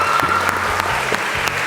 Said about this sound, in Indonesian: Tepuk tangan untuk Mbak Cahya Wulan semuanya